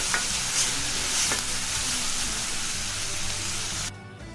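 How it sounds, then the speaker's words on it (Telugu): Onion pieces and green chillies frying in a pan for a potato and pea curry, a steady close sizzle with faint stirring, cutting off abruptly near the end. "ఇప్పుడు పచ్చిమిరపకాయలు వేసుకుంది ఉల్లిపాయ ముక్కలు బాగా వేయించుకుందాం"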